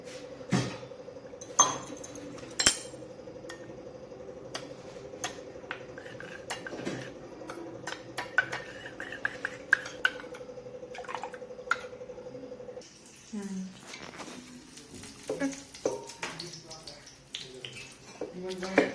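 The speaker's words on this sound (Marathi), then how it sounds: "1 चमचा कॉर्नफ्लॉवर घेणार आहे आणि त्यामध्ये ना पाणी टाकून त्याची पेस्ट बनवायची आहे" A spoon clinks and scrapes against a small bowl while cornflour and water are stirred into a paste in a home kitchen, with scattered metallic taps, drips and dish sounds, near and fairly quiet.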